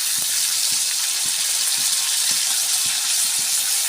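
Eggplant and young drumstick pods frying in hot oil with green chili, a steady close sizzle broken by faint regular stirring scrapes throughout.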